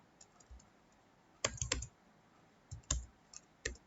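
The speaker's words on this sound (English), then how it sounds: "Now once again we will type it." Keys click on a computer keyboard while HTML code is typed, coming in short, scattered clusters of close, quiet taps with pauses between them.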